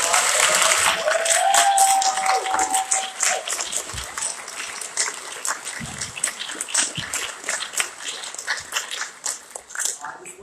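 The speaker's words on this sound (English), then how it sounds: "Why don't we give all of our panelists one more round of applause?" An audience at a university debate event applauds the panelists with sustained, dense clapping that rises to a peak, then thins and tapers. A whistle cuts through early on, and voices murmur beneath.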